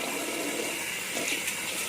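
Running, splashing water as a face is rinsed after a session with an ageLOC LumiSpa facial device; a steady, close hiss of flowing water with no voices.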